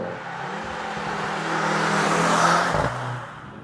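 A 2023 Mercedes-AMG C63 S E-Performance mid-size sedan accelerates hard at about 180 under boost. A steady engine and drivetrain tone rises and grows louder, then drops in pitch near the end as the car eases off.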